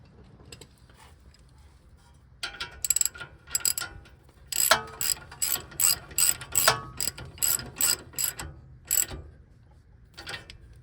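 Ratchet tightening a castle nut onto a ball joint stud on a 1996-2002 third-generation Toyota 4Runner, a short burst of clicking followed by a run of quick, close, rhythmic ratchet strokes, with no talk.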